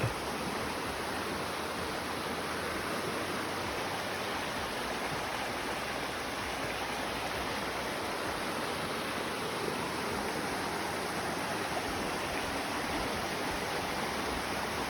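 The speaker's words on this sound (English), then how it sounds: "Crossing this bridge, pretty creek." Creek flowing under a trail bridge on the Appalachian Trail near Iron Mountain, Tennessee, a steady soft rush of water running without pause and fairly faint.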